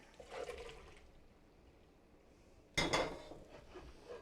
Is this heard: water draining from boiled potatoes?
yes